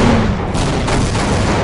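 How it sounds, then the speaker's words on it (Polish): Explosions in the video game Half-Life: Opposing Force merge into a dense, loud, continuous roar of booms and blasts with no pauses. "Wybuchy wszędzie tu, aż miło."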